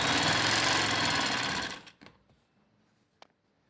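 A sewing machine stitching piping onto fabric for a neckline, running in a loud continuous whir for nearly two seconds before stopping, followed by a few faint clicks and handling sounds.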